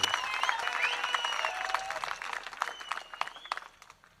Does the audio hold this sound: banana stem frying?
no